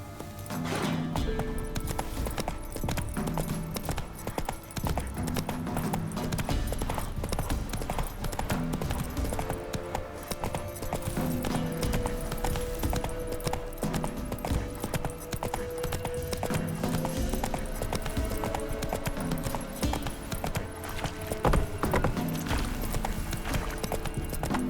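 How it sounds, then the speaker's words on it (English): A horse in a video game trots with a steady, rhythmic clip-clop of hooves, close and continuous for the whole stretch, with game music or ambience underneath and no speech. "Whoa there, Roach"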